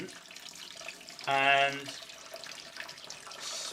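Tap water runs in a steady jet over an egg yolk cupped in a hand while washing off the remaining egg white, a brief loud burst of about half a second under a quiet voice.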